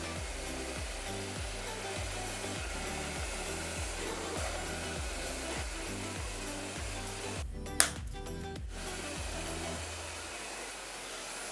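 Steady, loud whir of a hair dryer blowing out textured hair, running continuously with a brief clatter of handling near the end before it eases off.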